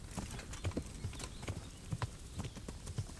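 A horse in the medieval video game Kingdom Come: Deliverance clip-clops along at a walk, its hooves striking in an even, fairly quick rhythm, clear and close but quiet overall.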